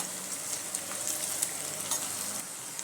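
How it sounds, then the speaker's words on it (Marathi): Onion frying in a pan with whole spices for vegetable pulao, a steady close, bright sizzle with soft crackles and occasional stirring scrapes, no voices. "आता कांदा घालूया आता हलका तपकिरी होईपर्यंत परतून घ्यायचा"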